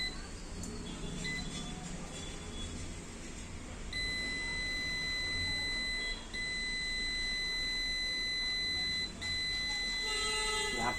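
Multimeter continuity beeps while testing a laptop motherboard, steady high electronic tones held for seconds with brief breaks, fairly close, over a low room hum.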